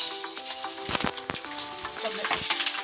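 Mustard seeds, cumin, chana dal, dried and green chillies and curry leaves frying in hot oil: continuous close sizzling and crackling with a few sharp pops and faint scraping of a stirring spoon.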